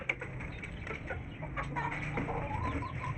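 A hen clucks softly at close range in a series of short, irregular calls while feeding, over a low background hum, with no talk.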